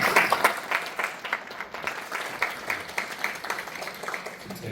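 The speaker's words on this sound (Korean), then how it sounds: "격려한 박수 부탁드립니다" Audience applause at a Korean National Assembly health-longevity forum, a steady patter of many hands clapping through the whole stretch, moderately loud with some uneven bursts and no clear voices on top.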